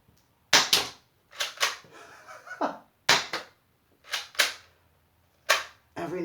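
A Chinese shell-ejecting foam dart blaster toy fires in a series of sharp snapping shots, spaced about a second apart, loud and close.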